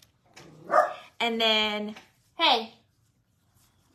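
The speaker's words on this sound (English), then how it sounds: "sorry about the dogs" Dogs barking indoors near a person doing card crafts, two sharp harmonic barks and a higher yelp in quick succession, loud and close, with brief speech at the start.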